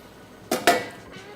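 Metal kadhai wok set down on a stovetop for frying fish, two sharp close clanks in quick succession ringing briefly before fading to quiet.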